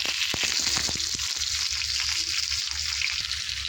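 Onions sizzle and fry in hot oil in a wok for a cauliflower and potato dish, a dense, steady crackling hiss with a few sharper pops near the start, close and continuous.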